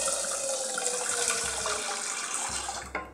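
Water pours steadily into a pot of rice in a home kitchen, a continuous close splashing gush that lasts a few seconds before cutting off.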